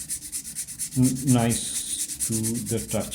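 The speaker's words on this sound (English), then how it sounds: "I have sanded it to 150 grit, so the 220 will make it smoother" Wood sanded with 220 grit sandpaper after a 150 grit pass on a carved oblique holder makes rhythmic, close scratchy rubbing strokes while a voice talks briefly.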